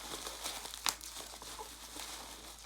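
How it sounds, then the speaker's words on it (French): Plastic gift packaging from a Christmas present haul being unwrapped: soft, close crinkling throughout with one sharper crackling burst, fairly quiet and without talk. "Putain, on n'arrive pas à déballer."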